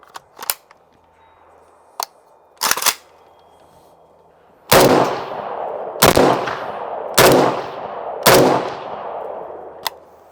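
Several loud, sharp AK-74 rifle shots ring out alone, each with a long echoing tail: a few smaller cracks early on, then four heavy reports spaced about a second apart.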